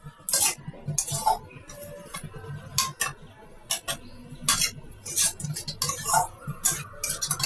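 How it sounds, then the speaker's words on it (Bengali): Fried pointed gourd and prawns being stirred in a pan, a spatula scraping and clinking against the metal in an irregular run of close, sharp knocks and scrapes over a low cooking background. "ভাজা পটলগুলো দিয়েও আমরা কষিয়ে নিচ্ছি ভালো করে।"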